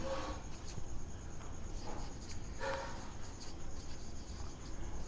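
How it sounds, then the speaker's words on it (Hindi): Chalk or marker scratching across a classroom board, steady faint strokes with brief scrapes, no voice over it. "तो देखिए यहाँ पर सब्सट्रैक्ट को लिखते हैं"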